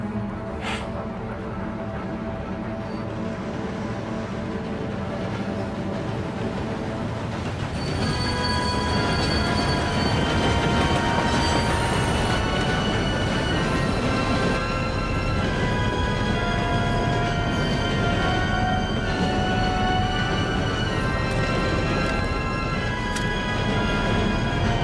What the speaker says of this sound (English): get on that train